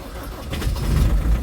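A Ford Transit van engine cranks and catches in 1 °C winter cold in Scotland, a low rumble swelling from a quiet start into a steady idle, close by.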